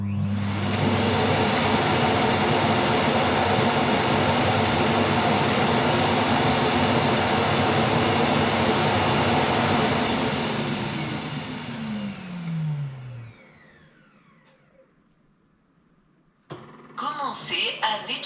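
A Dreame L20 Ultra robot vacuum dock auto-emptying: a loud, steady suction roar that winds down with a falling tone, then a brief pause before a short burst of mechanical clatter and whirring resumes.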